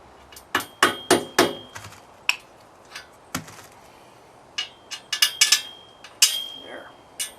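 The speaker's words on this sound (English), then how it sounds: "I had to use a tapered drift pin to get them lined up." A hammer strikes a tapered drift pin to line up bolt holes while installing a truck rack: sharp metallic clanks with a ringing tone, close and loud, in quick bursts separated by short pauses.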